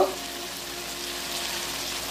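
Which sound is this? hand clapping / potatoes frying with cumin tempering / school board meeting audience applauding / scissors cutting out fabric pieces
potatoes frying with cumin tempering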